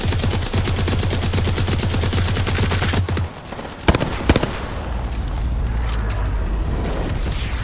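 Rapid automatic gunfire in a video game: a fast, even rattle of shots for about three seconds, then a brief lull, a few scattered loud shots and a continuing noisy firefight, loud and close with no talking.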